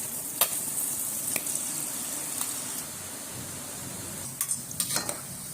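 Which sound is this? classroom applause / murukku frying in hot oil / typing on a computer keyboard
murukku frying in hot oil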